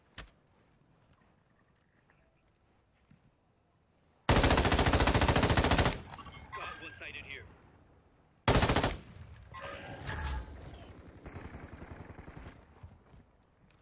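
Video game gunfire comes in two loud automatic bursts, the first lasting almost two seconds and the second shorter, each followed by fading echoes and rattles within otherwise quiet surroundings.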